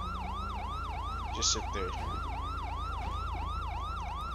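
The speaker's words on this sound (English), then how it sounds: "Let me turn my sirens off" Police car siren in the video game GTA V wails in a fast, regular rising-and-falling cycle, loud and close over a low engine rumble, with a short spoken line partway through.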